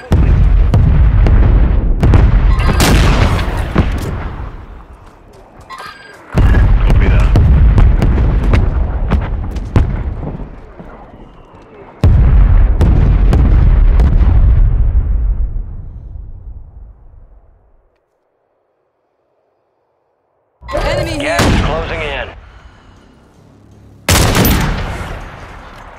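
Artillery fire mission strike in Call of Duty Warzone 3 battle royale: a series of loud, heavy booming blasts in clusters with rumbling decay, a brief silent gap, then two more sharp bursts.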